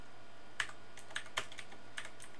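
Several light, sparse keystrokes tap on a computer keyboard, quiet and close with short pauses between them, and no voices.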